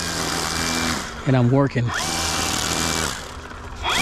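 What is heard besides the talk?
grass trimmer engine running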